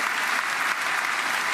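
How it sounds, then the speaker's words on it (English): Dense, sustained applause from a large crowd giving a standing ovation to Secretary of State Marco Rubio, steady and loud throughout with no break. "Big standing ovation for the Secretary of State."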